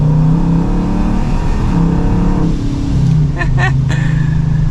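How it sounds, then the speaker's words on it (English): An 1100 horsepower Dodge Charger Scat Pack downshifting and accelerating, its engine a loud, close, continuous rumbling roar that rises in pitch, heard from inside the car with brief speech over it. "It's gonna downshift."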